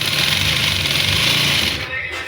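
A sewing machine runs a lapki stitch in a fast, steady, continuous whir close by, then slows and trails off near the end.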